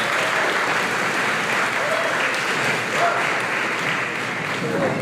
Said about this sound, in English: Another big round of applause for Candace Coleman